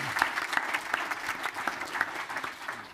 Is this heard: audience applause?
yes